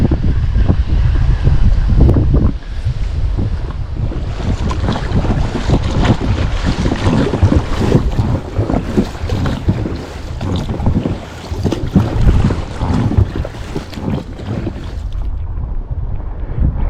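Strong wind roars and buffets the microphone over a lake on the Moksha river in Mordovia, with white-capped waves churning; the gusting rumble stays loud and continuous throughout, with no talk.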